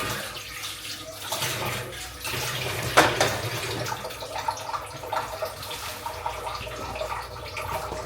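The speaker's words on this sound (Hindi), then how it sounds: "चलो भाई बर्तन धो लेते हैं फटाफट" Tap water runs steadily into a kitchen sink while dishes are washed by hand, with faint clinks and splashes throughout and a brief sharper clatter near the middle.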